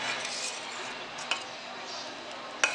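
Spoon stirring thickening basundi milk with sugar and dry fruit in a pan over medium heat, a soft continuous scraping with a couple of sharp metallic clinks near the end, close and fairly quiet.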